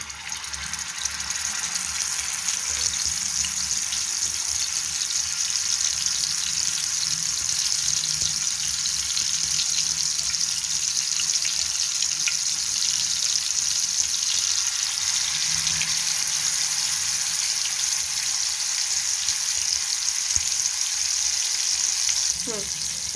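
Masala-coated tandoori chicken fries in oil on a hot tawa, a steady bright sizzle holding evenly for over twenty seconds at close range, with no talk over it.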